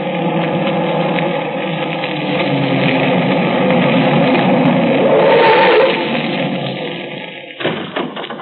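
A car engine runs steadily with a broad, sustained rumble in an old radio drama, building slightly toward the middle before the motor cuts off near the end, leaving a short rustle.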